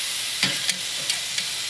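A tri-tip steak sears on hot grill grates with a soft, steady hiss. Several sharp taps or clicks punctuate it as the meat is turned.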